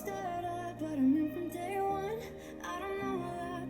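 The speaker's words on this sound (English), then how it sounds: "So if I play a song from the speaker," Music plays continuously from a speaker, heard through Sony WH-1000XM6 headphones, a blend of sustained tones and a melody line, moderately quiet and steady with no voices.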